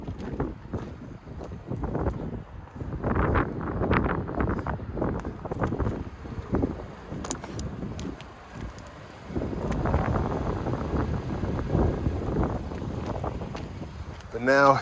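Strong wind buffets the microphone outdoors beside a 2026 Nissan Sentra S, a steady broadband roar with gusty surges throughout, mixed with talk nearby.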